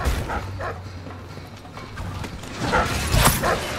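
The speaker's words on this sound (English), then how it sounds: "Piss off, you stupid dogs." Dogs in the video game Dishonored barking in several short bursts, with mechanical creaks, louder toward the end.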